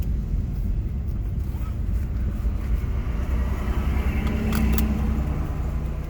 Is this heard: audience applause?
no